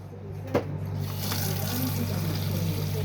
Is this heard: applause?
no